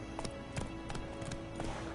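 Roach, the horse in The Witcher 3, gallops in quick, uneven hoofbeats that sound fairly distant over a constant hum from the game.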